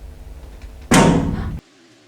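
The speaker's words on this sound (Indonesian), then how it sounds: "suatu benda menabrak jendela" A sudden heavy crash of an object hitting a window breaks a low, quiet background, a loud, dense burst lasting over half a second before cutting off sharply into near silence.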